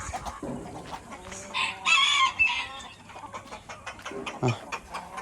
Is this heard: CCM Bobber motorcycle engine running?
no